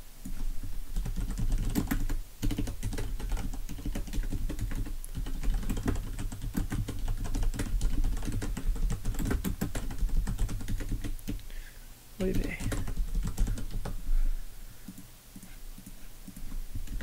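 Steady run of keyboard typing while code is written, rapid clicking keystrokes continuing for most of the stretch with only brief pauses, close and fairly even in level, with no talking.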